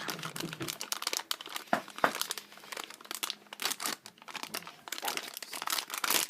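Plastic wrapping of a Shopkins toy package crinkling and tearing as it is opened, close and busy with irregular rustles and rips and no talking.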